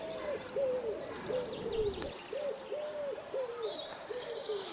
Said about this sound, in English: Hey, loads of birds.